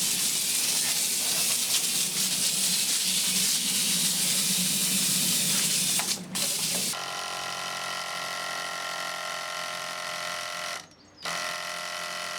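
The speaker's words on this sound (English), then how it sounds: "I'm going to give it a wash down and a clean" A pressure washer spray blasts a mini dumper (muck truck) during its wash-down, a loud steady hiss for several seconds before shifting to a droning pump hum with a brief dropout; no voices.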